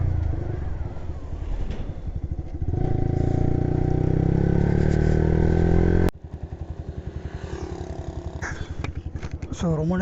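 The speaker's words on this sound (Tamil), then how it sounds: "வண்டி ஆஃப் பண்ணாமல் ரொம்ப நேரமாக ஓட்டிக்கிட்டு இருக்கேன்" Motorcycle engine running steadily on a ride in Munnar, a close, throbbing mid-pitched drone with revving shifts and a brief drop partway, while someone talks over it.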